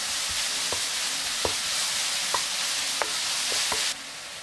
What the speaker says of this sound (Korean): 고추향이 올라오면 깻잎버섯 넣어 센 불에서 빠르게 볶아주세요.